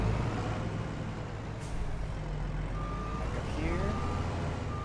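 A haul truck in Farming Simulator 22 sounds a steady series of reversing beeps over a low diesel engine rumble, with a person talking over it.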